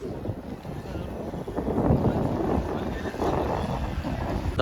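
A boat moving across the water off Marine Drive, its steady low engine rumble and water wash continuous under constant wind noise throughout.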